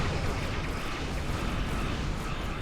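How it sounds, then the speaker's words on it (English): Incoming weapons fire pounds a starship in Star Trek Online, producing a dense, rumbling barrage of booming impacts that stays loud and unbroken throughout. "We have incoming fire."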